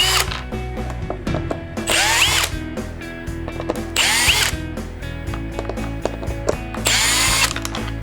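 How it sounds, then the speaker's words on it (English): A power drill backs screws out of a third-generation Toyota Tacoma console, with three short, loud whirring bursts separated by quieter handling clatter and rattling of parts. "Let's get a power drill and take them off really quick."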